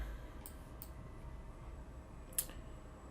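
A computer mouse clicks a few times while working in Inventor CAD software, small dry ticks spaced apart with one sharper click near the end, faint against a low steady background hum.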